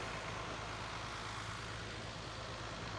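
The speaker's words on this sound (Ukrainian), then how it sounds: "фрезерую мотоблок. 8 кінських сил, фрезерую, другою передачею." Zarya 8 hp walk-behind tractor tilling garden soil in second gear before potato planting, a steady, dense engine drone with a low hum that holds evenly and close throughout, no talk.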